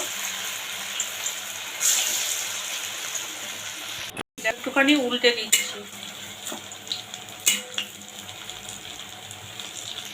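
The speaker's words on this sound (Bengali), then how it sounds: "এখন এই মোচাগুলো ভেজে নেব।" Soy chunk muitha dumplings fry in hot white oil in a wok, a steady sizzle with occasional stirring and utensil clinks, while a person speaks briefly partway through.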